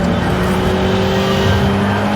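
An Alpine A110 R sports car engine holds a loud, steady drone with sustained tonal hum and no breaks, dense throughout the short stretch.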